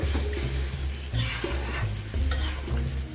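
Beef curry being stirred and cooked in a pot, with a continuous sizzle and frying hiss, scraping stir strokes and occasional clinks of a utensil against the metal, close up and without talking.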